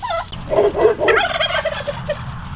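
A turkey gobbles nearby, a loud warbling burst of rapid throaty notes followed by a few shorter calls trailing off.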